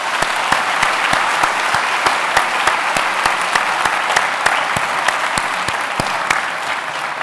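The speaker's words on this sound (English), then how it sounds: "would you please join me in giving our teachers and Dr. Hausman a well-deserved round of applause." A graduation audience applauds at a high school ceremony, a steady, dense wash of clapping with sharp individual claps standing out in a regular rhythm, holding at full strength throughout.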